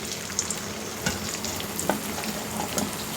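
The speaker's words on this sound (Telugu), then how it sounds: "ఇప్పుడు దీన్ని నూనెలో వేసి వేయించుకోవాలన్నమాట" Bitter gourd pieces fry in a generous amount of oil in a deep pan, giving a steady close sizzle with a few soft clinks of stirring over it and no voices.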